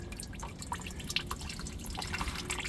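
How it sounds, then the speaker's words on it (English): Motor oil dripping from the loosened drain plug of a 2008 Dodge Ram 1500 with a 5.7 Hemi, a steady patter of close, irregular drips over a low background hum. "And then just let that drip."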